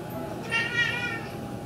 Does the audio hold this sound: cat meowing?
yes